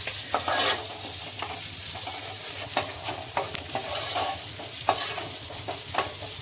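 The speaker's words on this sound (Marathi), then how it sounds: "इकडे दुसरी मच्छी पण फ्राय करण्यासाठी टाकलेली आहे" Fish fries in a pan, giving a steady close sizzle with crackles and small spatter pops spread through it, and no voices are heard.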